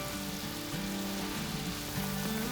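Sugar syrup for walnut gangjeong simmering and reducing in a pan, a soft continuous bubbling sizzle with steady fizzing and no voices.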